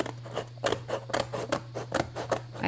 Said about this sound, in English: And then I need to cut this metal thing off.